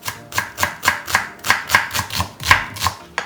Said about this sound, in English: Chop the sliced onions finely.